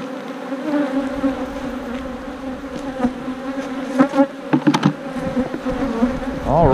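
A honeybee colony buzzes continuously up close during hive work, a dense layered hum with individual bees zipping past the microphone and a few sharp bumps and knocks.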